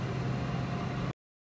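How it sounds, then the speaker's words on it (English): Air conditioner running as a steady broadband hum and hiss, close and even, cutting off abruptly after about a second. "That sound is the AC"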